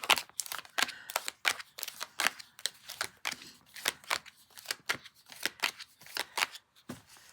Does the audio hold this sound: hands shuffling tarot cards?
yes